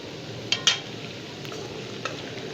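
Chicken karahi, golden-browned chicken with potatoes, being stirred in a pan at a Pakistani street food stall, with a steady frying hiss and a few sharp scraping knocks of the spoon, no talk.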